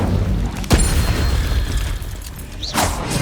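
Fire spell blasts cast during a spider fight in the video game Hogwarts Legacy, a loud booming burst near the start and another whooshing flare near the end over a dense, continuous game soundscape.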